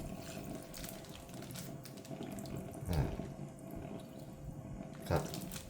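Water flows steadily into a pot of southern Thai bitter mushroom curry, a continuous close pouring and splashing sound with a couple of brief clunks.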